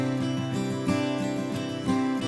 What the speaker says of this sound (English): Let's check out the acoustics.